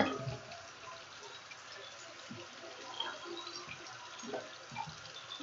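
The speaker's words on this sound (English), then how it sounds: "I'm going to take my container to fill it up with 32 ounces of water again." Tap water runs into a container being filled with 32 ounces, a faint trickling and splashing stream with small irregular bursts, heard close and without talk.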